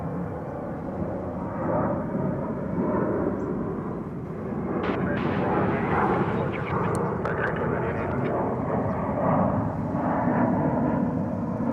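Airliner departing runway 36 right at DFW Airport, a steady broad engine roar filling the clip at moderate distance, holding constant throughout with faint radio chatter beneath.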